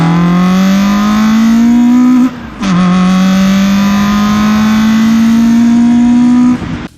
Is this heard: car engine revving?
yes